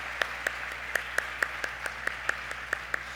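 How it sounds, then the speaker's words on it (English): A handful of sparse, evenly spaced claps ring out at a health care gala, close and fairly crisp with no talk over them. "Give yourselves a round of applause"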